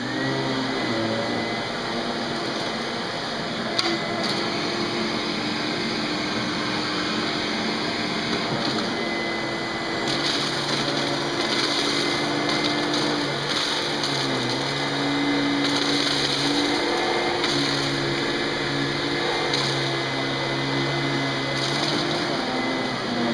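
A Riccar 8800 upright vacuum cleaner runs continuously on deep pile carpet, its steady motor whine and brush agitation droning close and loud throughout, with slight shifts in pitch as it moves, no talking.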